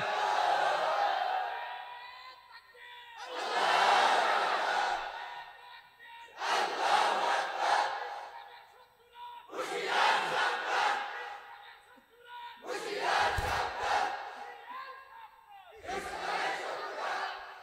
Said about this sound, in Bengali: জোরে জোরে তাকবীর দেন